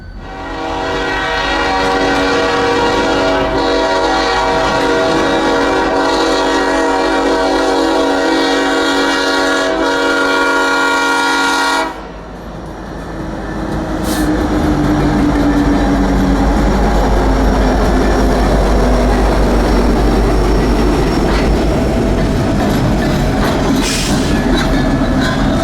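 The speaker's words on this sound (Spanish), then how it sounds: "Escuchen ese poderoso silbato." Five locomotives pass close by, their horn blaring in one long, loud, sustained chord for about twelve seconds, then giving way to heavy rumbling and clattering wheels as the train rolls past.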